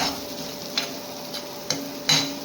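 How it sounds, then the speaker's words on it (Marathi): Spice tempering sizzles in hot oil for a red chicken curry, with a steady soft hiss and a few brief clinks and scrapes of stirring at intervals. "आता आमचे पप्पा फोडणी घालताय"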